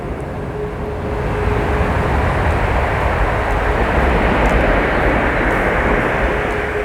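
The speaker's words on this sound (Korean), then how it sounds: "지금 기차가 지나가고 있는데요." A broad, rushing roar swells and holds steady as a train passes at a distance on a line near a forested hillside road between Wonju and Gangneung, with no voices over it.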